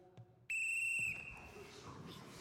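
One sharp, shrill whistle blast in a boxing gym sounds for about half a second, leaving a faint echoing room afterward.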